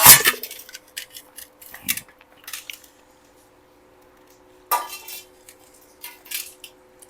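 Plates and cutlery clink and scrape during lunch at home in Goa, with scattered close-up clatters and quieter gaps between them.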